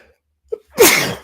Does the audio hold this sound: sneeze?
yes